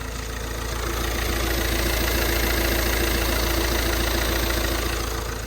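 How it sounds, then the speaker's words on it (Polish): An Alfa Romeo 159 engine with a new turbocharger idles steadily and evenly, a close, continuous low hum with a faint rhythmic chug and no voices. "Silnik pracuje idealnie"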